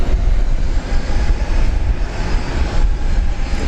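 Beechcraft King Air twin turboprop of the Flying Doctor service taxiing at Brisbane airport, a loud, steady, rumbling engine drone with fluctuating roar, no voices.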